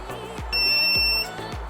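A bug detector held near a magnetic knife board in a kitchen sounds a sustained, piercing electronic alarm tone over a pulsing background buzz, close and loud, with no talking.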